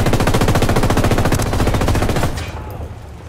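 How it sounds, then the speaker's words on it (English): Automatic gunfire in the video game Ghost Recon Wildlands: a loud, rapid burst of shots fires for about two seconds, then trails off into fading echoes. "They've seen us. I'm opening fire on these shitheads."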